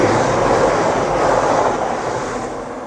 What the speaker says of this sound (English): Train going past.